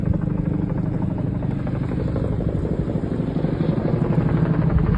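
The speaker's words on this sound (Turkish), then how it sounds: "Helikopterler buradan su alıyor." Firefighting helicopters hover over a pond near Bostanyeri, Buldan, Denizli, drawing water during a forest fire, with a loud, steady, close rotor thrum and engine roar that stays constant throughout.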